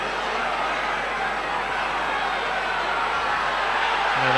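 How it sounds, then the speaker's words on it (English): Rugby league stadium crowd roaring at Featherstone Rovers versus St Helens in 1988, a steady, loud, broad wash of massed voices filling the whole stretch without a break. "Ooh, go the crowd."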